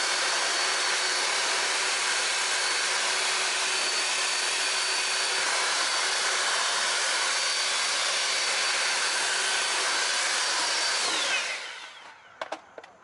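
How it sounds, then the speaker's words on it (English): A handheld air blower roars steadily and loud, drying freshly washed anodized brake calipers on a Shelby GT350, then cuts off near the end, leaving a few faint clicks and knocks. "Then we can grab the blower."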